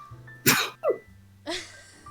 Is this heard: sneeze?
yes